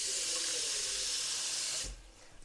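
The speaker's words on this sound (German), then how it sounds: "Das bisschen reicht nimmer, dann holen wir noch ein bisschen Wasser." A kitchen tap runs hard into a stew pot of turnip greens and vegetables, a steady bright rushing hiss that cuts off abruptly near the end, leaving a quiet room.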